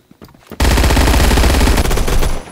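Rapid sustained burst of PPSh-41 submachine gun fire in a video game, loud and continuous for about two seconds after a brief quiet start, cutting off at the end.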